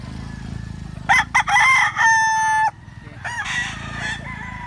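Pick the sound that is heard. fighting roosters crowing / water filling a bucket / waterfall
fighting roosters crowing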